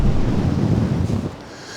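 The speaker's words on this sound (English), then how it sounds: "the wind has picked up" Outdoor wind gusting against the microphone, a loud, close, low roar that churns for under two seconds and eases slightly at the end.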